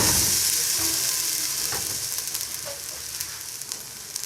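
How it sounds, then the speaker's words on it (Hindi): Garlic paste sautéing in hot ghee in a pan for chicken Manchurian gives a steady, fairly loud sizzle and hiss throughout, with a few small crackles and pops. "और मैंने इसमें अब गार्लिक पेस्ट डाली है। इसको थोड़ा सौते करेंगे"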